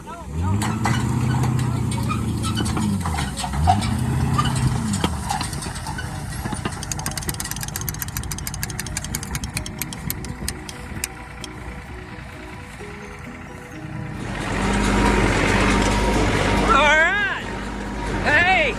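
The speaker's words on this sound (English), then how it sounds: "Massey Ferguson 124 baler. Spitting them babies out like Pez candy." Massey Ferguson 124 hay baler at work on a second hay cutting, a steady mechanical drone with rhythmic clatter throughout and a louder, rougher engine stretch toward the end; a voice talks over it.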